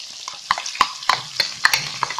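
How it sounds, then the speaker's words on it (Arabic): Chicken pieces fry with onion in a pan, a soft steady sizzle broken by sharp clinks and scrapes of stirring, close and fairly quiet. "نخليهم يتقلو مليح"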